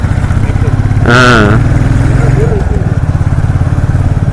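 A Royal Enfield Bullet motorcycle runs in first gear close by, its engine a rapid, even thump that carries on throughout, while a voice calls out briefly.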